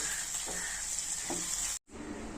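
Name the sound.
stirring stuffed brinjal curry in a frying pan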